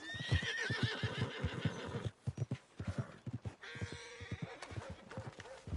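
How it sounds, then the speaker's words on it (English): A horse whinnies loudly in a Red Dead Redemption 2 western game scene, followed by steady clip-clop hoofbeats and snorting, with a voice speaking briefly over the sounds. "Are you gonna mount that new horse of yours or not?"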